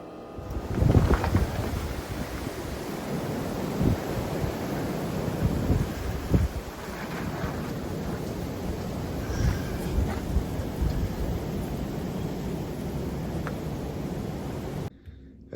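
Wind blows steadily outdoors at an off-grid maple sugaring site in freezing weather, a broad rushing roar with gusty surges and buffeting against the microphone throughout.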